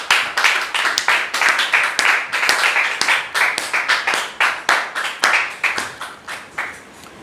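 An audience claps to welcome a guest onto a stage, a thin crowd of rhythmic, fairly close handclaps pulsing in waves, with no speech over it.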